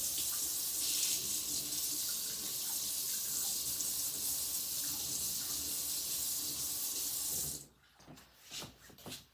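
Tap water runs steadily into a kitchen sink as a spoon is rinsed during preparation of a beef meat pie filling, a continuous close hiss that cuts off near the end, leaving a few faint clinks and handling sounds.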